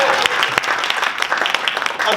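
Comedy club audience members in Las Vegas clap in response to a question about who is visiting, a short burst of mixed clapping with some voices and cheers in the room.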